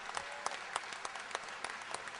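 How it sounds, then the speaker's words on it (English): A modest crowd at a political barbecue gives a short, scattered round of applause for the guests. The clapping is fairly faint and quick, with separate sharp claps standing out. "A big round of applause for those guys for being here today."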